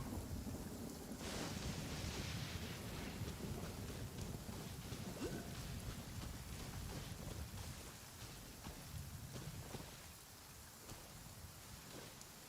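A thunderstorm in the Genshin Impact video game, with steady heavy rain hissing throughout and low rumbling thunder rolling underneath, fairly close and continuous, easing slightly near the end.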